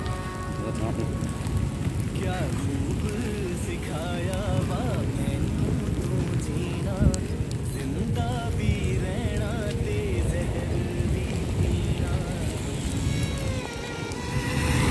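Steady heavy rain pattering on surfaces in downtown Dubai, continuous and close, with faint voices murmuring underneath.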